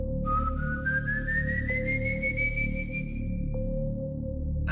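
Out in the countryside, a person nearby whistles one long, clear note that slowly rises in pitch and then holds steady, over a faint constant background hum.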